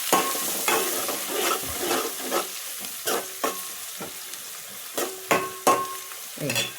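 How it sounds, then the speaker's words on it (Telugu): Turmeric being stirred into a sizzling mixture in a pan; repeated spatula scrapes and knocks land roughly every half second over a soft frying hiss, close and clear. "ఇలా ఇగో పసుపు మంచిగా కలుపుదాం దీన్ని"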